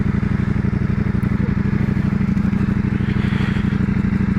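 A 2021 Ducati Multistrada V4S cruises on a motorway with a steady, throbbing V4 engine drone and constant wind rush, loud and close, with no talking.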